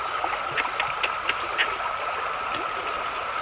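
A stream flows steadily on an outdoor hike, a constant near wash of rushing water with small bright trickles and splashes over it and no talking.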